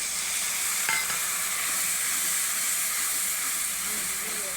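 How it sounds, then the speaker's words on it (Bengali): Spices with chopped tomato, chili powder and turmeric sizzling in a pan as they are stirred, a steady even hiss with faint scraping throughout. "ওর মশলা ভালো করে কষে নেব।"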